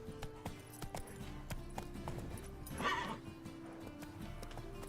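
Roach, the horse in The Witcher 3, gallops with steady rhythmic hoofbeats under a faint game soundscape, with a brief snort or whinny rising midway.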